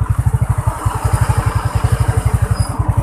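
Yamaha Mio scooter being ridden, its small engine putting out a fast, even putter of regular pulses, steady and close with wind noise above it.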